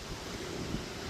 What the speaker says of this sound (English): I learned how the wind's blowing all the sand around